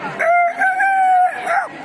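A young rooster practising its crow, one close, loud, wavering cock-a-doodle-doo lasting under two seconds.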